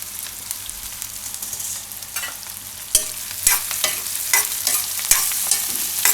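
Bottle gourd and onion frying in oil, a steady low sizzle broken by sharp scraping clicks and rattles as a spoon stirs the pan at irregular intervals, close up and without speech.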